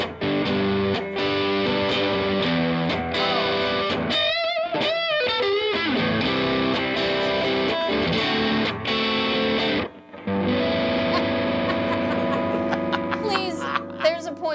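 An electric guitar played through distortion rings out loud and sustained in chords and riffs, with a brief drop in the middle and people talking at points.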